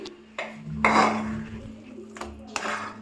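Freshly cooked coconut candy made with ghee being transferred onto a plate, with clinking metal utensils and dish scrapes in bursts, close by.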